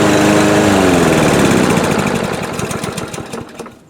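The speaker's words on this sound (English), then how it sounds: "It should restart without any problem right here now." A Yard Force 22-inch lawnmower engine restarting: a loud, close engine roar that starts strong, then settles into a rhythmic pulsing chug and fades toward the end.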